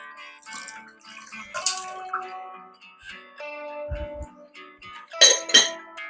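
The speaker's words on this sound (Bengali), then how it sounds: "আমি এবারে ছেঁকে জলটাকে নিয়ে নেব।" Water is strained off boiled onions and pistachios, producing sparse drips, trickles and light metallic clinks from a strainer and pot, with quiet gaps between.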